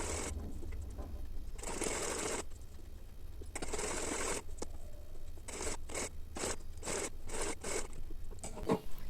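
Stitching along a salwar waistband casing: a sewing machine runs in bursts, long runs at first and then short rapid spurts, close and fairly loud over a low background hum, with no speech.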